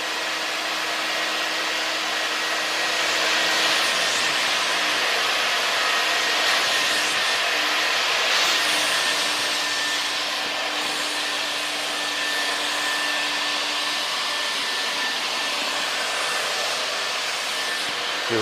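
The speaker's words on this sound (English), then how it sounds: "All these years and I've never had an extractor." A carpet extractor pulls mold out of the interior of an AP2 Honda S2000, a steady, loud suction whine and airy rush that runs unbroken throughout with slight scraping variations and no voices.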